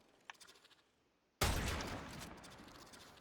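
A video game gunfire sound from a non-primed chamber shot: one sudden loud blast that starts sharply after a quiet lead-in, then fades slowly into a long ringing tail.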